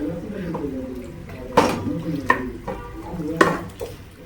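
Chicken being stirred in a cooking pot, with a few sharp scraping knocks of a spoon against the metal over a soft sizzle, under a voice talking.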